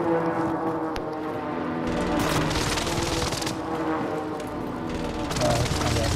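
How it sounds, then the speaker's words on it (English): Explosions from an enemy precision airstrike in a Call of Duty-style shooter, heavy booming blasts rumbling over continuous game noise, with a voice speaking faintly underneath. "Enemy precision airstrike"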